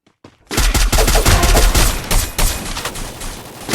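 Rapid automatic gunfire from the Free Fire mobile battle game, loud dense bursts of shots starting abruptly after a brief quiet lead-in and continuing nearly nonstop.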